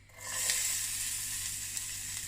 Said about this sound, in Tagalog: Lagay ko lang yung sibuyas.